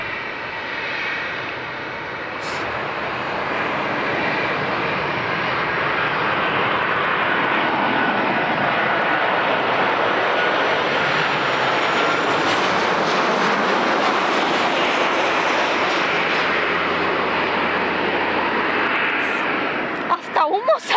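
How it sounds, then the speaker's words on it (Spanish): An airplane landing on a runway, a loud sustained jet engine roar that builds and holds steady for about twenty seconds, heard close and alone, cutting off abruptly at the end. "pero primero tiene que esperar ese avión de allá para aterrizar"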